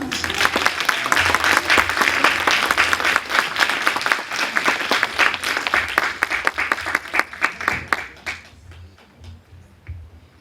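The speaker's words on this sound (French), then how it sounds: "on peut encore une fois les applaudir" A hall full of people gives sustained, dense applause for the children after a Christmas show at a Protestant church. The clapping stays loud for most of the stretch, then thins into scattered individual claps and dies away near the end.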